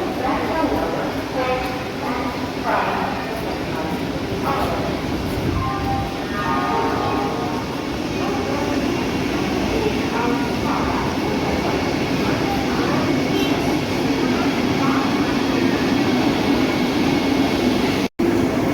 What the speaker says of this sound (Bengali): এখন যে বন্দে ভারত ঢুকছে সেটি হলো রাউরকেলা বন্দে ভারত এক্সপ্রেস